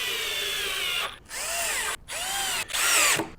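A power drill drives 8 gauge 50mm screws into a solid oak pool table, three separate bursts of whining, rising-and-falling motor spin with short pauses between them, close and loud.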